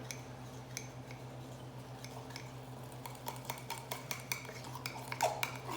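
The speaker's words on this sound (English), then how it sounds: "I'm just gonna mix all of this together." Fork stirring mug cake batter of flour and dry ingredients in a mug, with a steady run of light clinks and scrapes against the ceramic that grows a little busier toward the end, close and alone.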